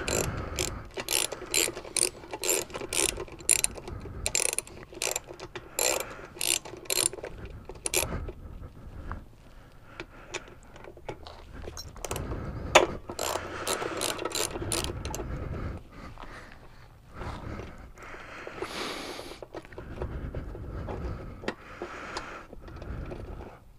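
A ratchet wrench loosens 10 mm bolts, with long runs of rapid close metallic clicking, brief pauses and scattered clinks of tools and parts.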